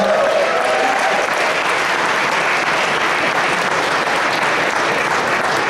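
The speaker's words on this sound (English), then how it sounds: "One more round of applause for them." An audience at a school jazz concert applauds a jazz band, a dense, steady roar of clapping that holds at an even level throughout.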